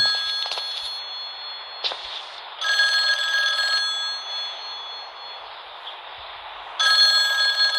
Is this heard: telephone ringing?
yes